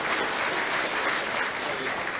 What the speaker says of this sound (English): Can we have a big round of applause, ladies and gentlemen?